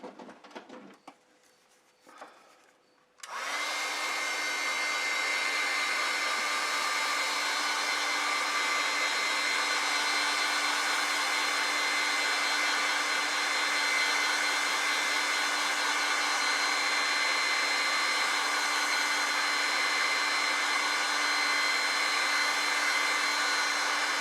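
A hair dryer switches on after a few seconds of quiet handling noise and runs as a loud, steady, continuous whir, drying watercolor and gouache paint on paper.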